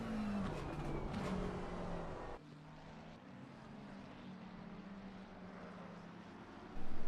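A Lamborghini race car engine howls at Brands Hatch in a sim racing game, a loud sustained drone that drops in pitch as it passes, then rises again at the end.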